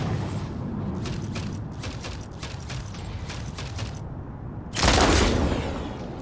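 Rocket mortar shots in a video game, a run of rapid firing thumps followed by a loud booming explosion near the end, with no talking over them.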